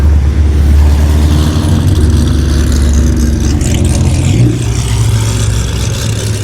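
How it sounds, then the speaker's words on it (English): Loud Corvette sports car engine roaring on a London street, a heavy, steady, close rumble that shifts pitch near the end as the car moves past. "That Corvette is insanely loud."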